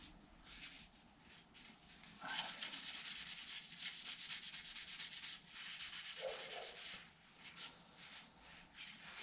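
Sandpaper rubs back and forth on a wooden gun stock in a steady run of quiet scratchy strokes, close and alone.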